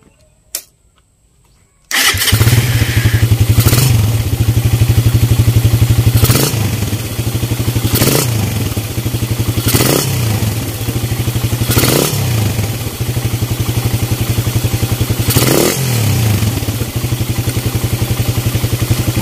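A Raider 150 motorcycle fitted with a 30mm Koso open carburetor and straight exhaust starts after brief quiet, then idles loudly with a rapid steady throb and several short revs.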